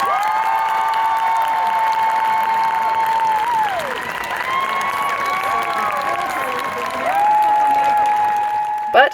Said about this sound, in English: the crowd gave them a standing ovation